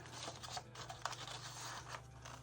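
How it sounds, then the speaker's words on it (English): Scissors snipping through scrapbook paper while trimming a peek-a-boo heart page, giving a few soft, close crisp cuts over a low steady hum. "we're going to cut from this point to that line"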